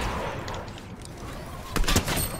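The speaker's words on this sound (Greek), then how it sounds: "Είναι κανόνι." Cannon fire in a shooter video game, with steady battle noise underneath and a sharp loud blast bursting out near the end, followed by a shorter second report.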